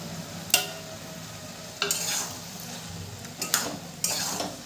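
A spoon stirs boiled bottle gourd and fried prawns together in a pan, making four distinct scraping, clattering strokes over a faint sizzle, close and moderately loud with quiet gaps between.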